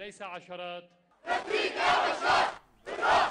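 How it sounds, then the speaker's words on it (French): A crowd of supporters cheering for President Assad bursts into loud rhythmic chanting and shouting in waves, following a short stretch of a single voice speaking. "À ses partisans qui l'acclament"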